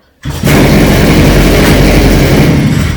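A brush cutter's small two-stroke engine catches after a pull on the starter cord and roars up loud and close. It then runs at a steady, rough, high idle with no talk over it.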